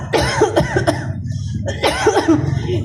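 A person coughs several times in two close bursts, harsh and near, with voiced rasping between the coughs.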